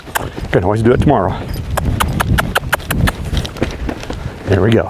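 Hooves of an Arabian filly under saddle clip-clop in a quick, steady rhythm close by, with someone talking over the footfalls at the start and end.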